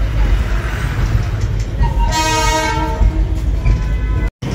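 A Darjeeling toy train, the UNESCO heritage hill railway, sounds a loud sustained multi-tone horn for about two seconds over a steady rumbling engine and track background.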